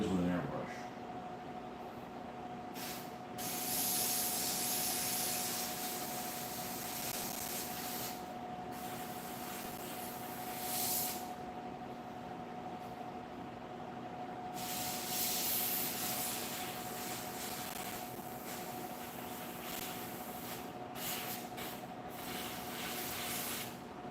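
An airbrush sprays paint in a steady, continuous hiss that swells and pauses in short gaps, under a faint constant hum from the compressor.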